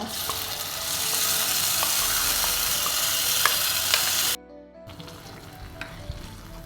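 Spices for a khara pongal tempering sizzle loudly in hot oil, a dense continuous crackle with faint stirring clicks, dropping off briefly near the end before a softer fry resumes.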